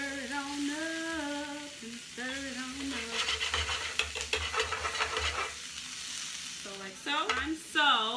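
Carrots are stirred into a pot of vegan split pea soup over high heat, giving a soft sizzle and scraping under a voice that talks at the start and end of the stir.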